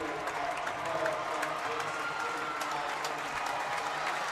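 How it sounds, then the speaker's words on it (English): Crowds at a boys' high school basketball game clap in a steady, sustained standing ovation that fills a gym, with a commentator speaking over the applause. "both crowds give a nice standing ovation to their players"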